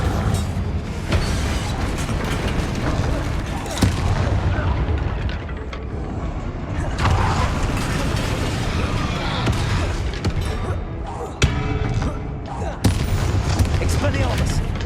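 Confringo and other fire spells from Hogwarts Legacy burst in repeated booming blasts during combat, each explosion loud and close amid chaotic battle noise, with a player shouting spell names over them.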